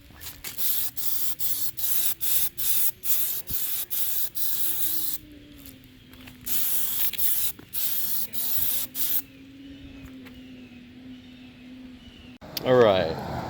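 Spray can applying a coat of black paint to a BMW 335i kidney grille during a chrome-to-black conversion, in a series of short hissing bursts with brief pauses, over music playing in the background.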